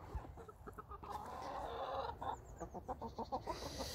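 Hens cluck and chatter softly nearby, a run of short rhythmic clucks rising and falling with no talking.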